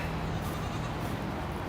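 A pregnant goat bleats once, a drawn-out nasal cry in a barn setting, fairly close and moderately loud over a steady background hum.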